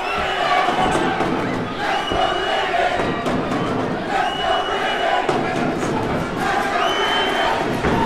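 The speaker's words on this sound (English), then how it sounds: "Brown's supporters making a lot of sound there." A boxing crowd at the Stadium of Light roars and cheers throughout an English title fight between Glenn Foot and Akeem Brown, Brown's supporters keeping up a loud, dense wall of chanting and shouting with periodic swells.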